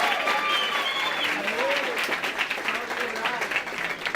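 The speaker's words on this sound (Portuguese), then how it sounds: "Palmas para Isadora" A studio audience claps for a guest on a talk program, a sustained round of applause from a modest crowd while a voice speaks over it.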